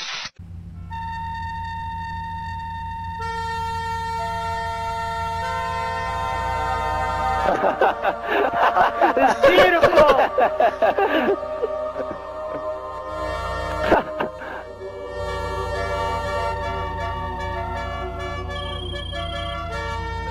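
Several car horns in GTA V Online sound together as tonal chords, sustained and layered, swelling into a loud, busy cluster midway before thinning again; a voice comments briefly.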